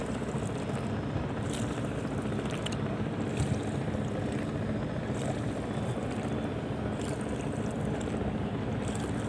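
Boats, trawlers and passing ships on the river at a ghat near Gandaria, Dhaka: an unbroken low engine-and-water rumble under heavy wind buffeting on the microphone, with no voices.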